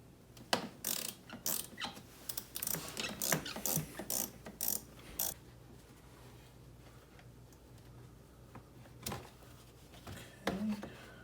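A ratchet wrench turns a 10mm bolt to release a clamp on the air intake hose during throttle body cleaning, giving rapid bursts of clicking pawl ticks, fairly close, with a pause and a few last clicks near the end.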